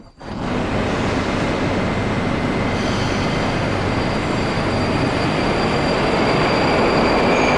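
A train rumbles loud and steady through a Moscow metro station with open marble-columned platforms, a continuous roar of wheels and carriages that swells slightly toward the end, with no voices over it.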